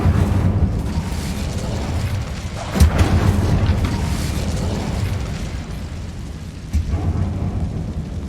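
Fire spell blasts from a Harry Potter video game: a rumbling, boomy roar with a sharp burst near the start and another later, sustained thundering texture throughout without speech.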